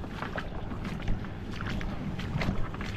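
Steady low droning of two engines running close by on an ampalaya (bitter gourd) farm during fertilizing, a continuous rumble with faint clatter, no talking.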